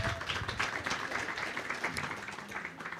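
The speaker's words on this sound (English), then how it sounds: "Let's give him a round of applause." An audience claps at a live democracy masterclass session, with dense, steady, moderately distant applause running throughout at even loudness.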